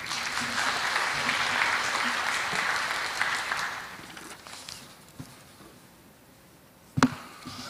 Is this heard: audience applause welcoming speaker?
yes